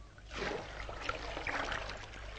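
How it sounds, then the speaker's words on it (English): Water poured from a big leather bag into a stone channel that carries it toward the town, a steady close trickling and splashing flow lasting throughout with no voices. "It is poured into a stone channel, and it runs along this channel to the town."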